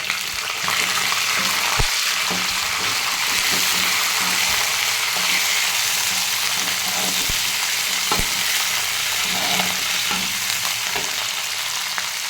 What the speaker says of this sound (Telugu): కరివేపాకు వేయే వరకు వేయించుకోవాలి